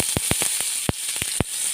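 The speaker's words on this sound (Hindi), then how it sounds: "मैं थोड़ी सी हींग का तड़का भी लगाती हूँ" Asafoetida tempering sizzles in hot oil while cooking appe. A steady frying hiss is punctuated by several sharp crackling spits and pops at irregular intervals, close and fairly loud, with no talking.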